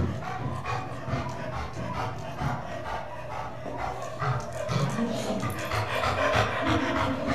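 Dog with degenerative polyneuropathy breathing noisily at rest, a steady rapid panting and rasping throughout, fairly close, with some snorting and movement rubbing in the background.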